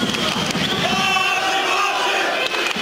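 Loud boxing fans in an arena crowd during the first round of Povetkin versus Wawrzyk, a sustained roar of shouting and chanting voices filling the hall, with commentary talk layered over it.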